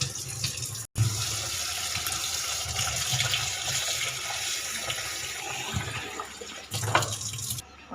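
Water pours steadily from a tap into a vessel of millet to soak it, a close, continuous rushing flow with a brief break near the start and a few splashy surges later.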